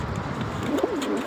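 Fancy pigeons in a breeder colony give a soft, low cooing call that rises and falls near the end, set against a steady background hiss.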